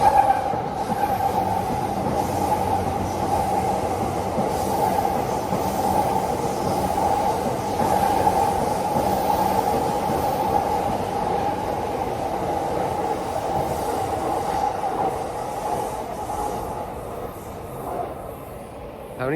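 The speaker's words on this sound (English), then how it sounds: "Hey guys, I'm at that train overpass." A train rolls across a railway overpass in Ikebukuro, Tokyo, a steady rumbling roar with a persistent metallic wheel squeal sustained for the whole stretch before easing off near the end.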